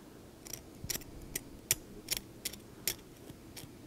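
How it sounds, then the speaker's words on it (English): A hand scaler scraping tartar down off a large dog's tooth during an at-home cleaning, about ten short, sharp scraping strokes in an uneven rhythm, close and faint. "I generally like to scrape, you know, down, so I'm just scraping that tartar out and down."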